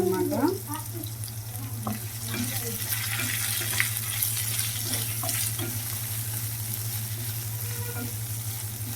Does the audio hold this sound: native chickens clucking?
no